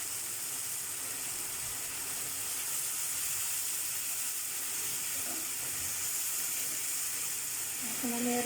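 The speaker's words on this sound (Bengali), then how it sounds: "এই যে দেখুন মশলা কষানো" Spices sizzle while being sautéed in a pan for an egg lentil curry, a steady frying hiss throughout with faint stirring, and someone speaks briefly near the end.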